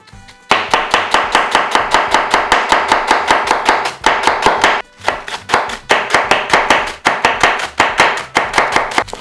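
Fast, even rhythm of loud, crisp knife strokes striking a cutting board as pork cutlet is sliced finely for tonkatsu, with one brief pause midway, close up and free of talk.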